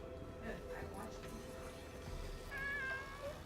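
A pet cat meows a few times indoors, short tonal calls rising over a steady background hum, with a clearer drawn-out meow near the end.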